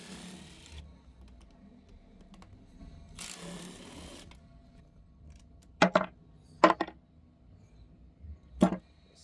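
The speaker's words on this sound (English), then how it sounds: "Pop all these screws off this bad boy." Screws being taken out of a Tesla rear drive motor during a teardown, with two bursts of tool noise followed by three sharp metallic clicks, heard close and alone.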